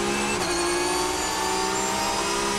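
Race car accelerating hard out of a slow second-gear corner at Misano, engine note climbing steadily and loud from onboard, continuous without pause.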